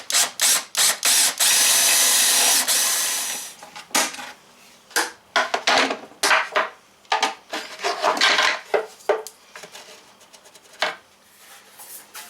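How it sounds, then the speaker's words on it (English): Forstner bit boring a clean hole through wood during a teardrop camper build: a loud, steady drilling burst for several seconds, then a run of sharp clatters and knocks as the bit and cut piece are handled. "so now we can run our Forstner bit, and we'll just run that through."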